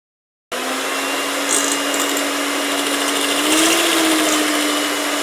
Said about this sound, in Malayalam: ഇപ്പോൾ ഇത് നല്ല ക്രീം പോലെ നമ്മൾ ബീറ്റ് ചെയ്തെടുത്തിട്ടുണ്ട്